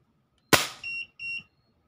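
One close, sharp snap of a Crosman 1377 air pistol shooting a 0.68 g Luman pellet, quickly fading, then a pair of brief high electronic beeps from a speed-measuring chronograph.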